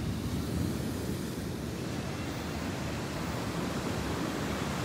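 Ocean surf washes continuously at Natural Bridge State Beach in Santa Cruz, a steady broadband roar of breaking waves with no distinct individual crashes, fairly loud and close, with no voices.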